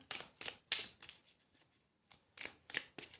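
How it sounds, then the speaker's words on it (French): Tarot cards drawn one at a time from a deck, giving short papery snaps and slides in separate bursts, with a pause in the middle and no talking. "Je préfère tirer les cartes une à une."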